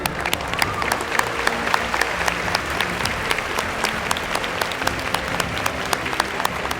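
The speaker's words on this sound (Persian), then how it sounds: "تشویقش کنید" Sustained audience applause at a festival award ceremony honoring a top researcher, dense steady clapping from a sizable crowd filling the room for about seven seconds without pause.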